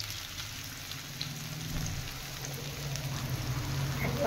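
Radish fritters (mulo bora) frying in a pan of oil give a soft, continuous sizzle and crackle, fairly quiet and close, with faint low clatter and no voices.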